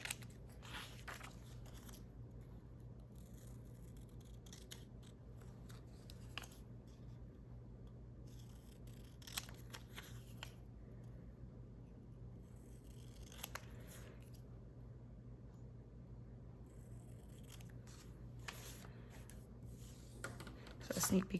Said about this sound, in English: I need to cut out these covers in order to tape them in here.